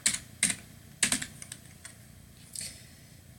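A handful of separate keystrokes and short clusters of clicks on a computer keyboard during Java programming, quiet and close, with pauses between taps; no talking.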